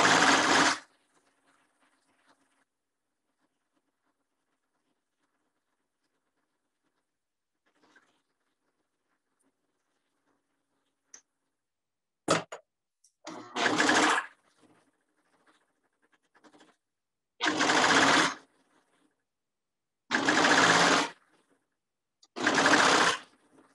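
A serger stitches the side seam of a boy's dress shirt front piece in several short, loud whirring bursts separated by quiet pauses and faint handling clicks.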